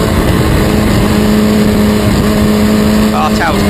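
Historic Formula Ford race cars at Snetterton, a loud, sustained engine drone with a steady tone and a pitch shift near the end as a car passes, while commentary runs underneath.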